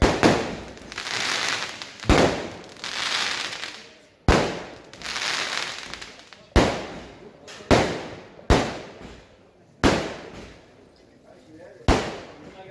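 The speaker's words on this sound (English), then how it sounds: "the fireworks have also stopped just in time" Fireworks bursting at a beach birthday celebration: repeated sharp loud bangs roughly every second or two, each followed by crackling decay, with a steady rushing backdrop throughout.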